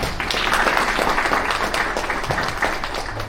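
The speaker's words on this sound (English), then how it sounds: "Once more, I would say huge round of applause." Loud, dense applause fills a devotional hall gathering for Mahashivratri. The clapping stays steady throughout with no pauses, and a faint low tone appears near the end.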